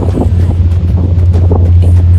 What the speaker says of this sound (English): the wind gust built in excess of 20 knots